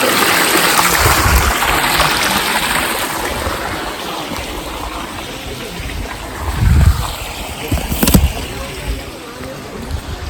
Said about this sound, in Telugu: ఇక్కడ వాటర్ ఇట్లా ఫ్లో అవుతున్నాయి కిందికి వచ్చిన వాటర్ ఇది